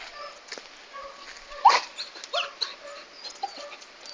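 Small dog whimpering and yipping in short, uneven bursts close by, with one sharper cry near the middle.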